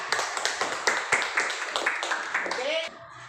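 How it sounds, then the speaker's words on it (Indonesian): A small group of students claps in a classroom, a brisk rhythmic patter of hand claps lasting a few seconds before stopping abruptly, with a voice rising at the end. "tepuk tangan untuk Dea"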